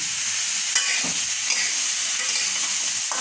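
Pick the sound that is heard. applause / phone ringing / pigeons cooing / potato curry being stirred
potato curry being stirred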